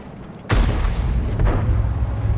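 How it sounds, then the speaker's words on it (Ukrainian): Artillery in a tank video game lands with a sudden heavy boom that cuts in after a quieter stretch, followed by a rumbling wash and a second, weaker thud. "Вах, артилерія."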